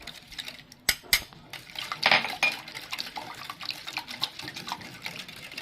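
A spoon clinks and scrapes against a container while lemon juice and milk are stirred for a lemon-mint drink, with a couple of sharp taps and continuous light rattling and liquid sounds.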